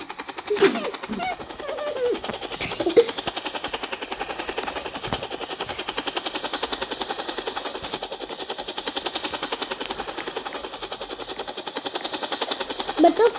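Steady whirring rotor chop of a helicopter in the Roblox game Livetopia, fairly faint and continuous, with a few brief game effects and clicks over it.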